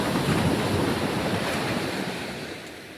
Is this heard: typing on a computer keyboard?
no